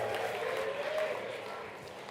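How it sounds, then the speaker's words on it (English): Applause from an audience at a winter sports event giveaway, a brief, fairly soft burst of clapping that tapers off over two seconds. "Let's clap for him."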